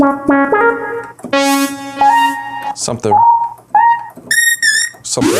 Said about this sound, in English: Let's switch sounds here. Let's go to a soft lead.